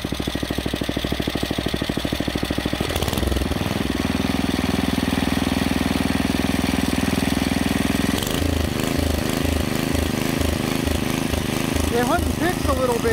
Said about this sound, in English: I'll go ahead and throttle it up real quick.